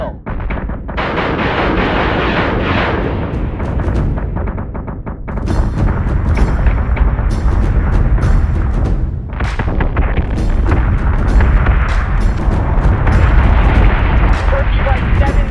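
Starship gun batteries fire in the Battlestar Galactica: Deadlock space combat game, a dense barrage of booming shots and explosions that rolls on almost without pause, loud and layered.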